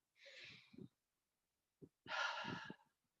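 Two audible breaths from a person nearby: a long airy inhale, a pause, then a short sniff and a second, longer deep breath, taken together during an online maths class.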